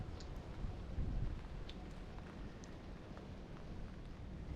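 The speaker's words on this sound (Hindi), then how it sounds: "बारिश बहुत ज़्यादा तेज हो रही है" Heavy rain pours down at a zoo in Luton, England, in a steady, dense hiss with a low rumble underneath, continuous and evenly loud, with no voices.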